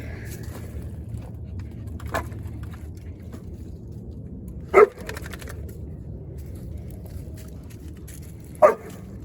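Dogs playing rough in a frozen backyard give two or three sharp, loud barks, spaced several seconds apart over a quiet low hum, with a fainter yip in between.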